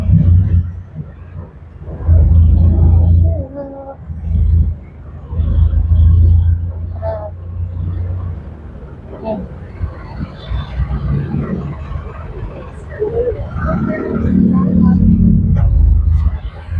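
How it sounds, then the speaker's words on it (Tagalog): Steady road traffic rumble from cars in a busy jam, a deep continuous drone with swells as vehicles pass close by, with people talking over it throughout. "Traffic na kami dito."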